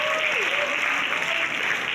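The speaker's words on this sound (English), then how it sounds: "applause for all of you" Steady audience applause fills a university public lecture hall, with a faint voice drifting through the dense clapping now and then.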